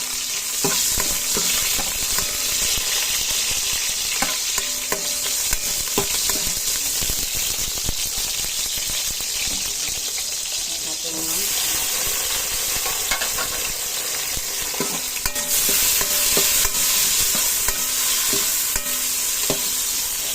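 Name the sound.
stirring and sautéing garlic and onion in a pot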